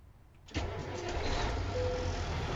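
A truck engine in Euro Truck Simulator 2 with the Magnum AE mod, heard from outside, cranks and fires abruptly after a quiet moment, then settles into a loud, steady, rumbling idle.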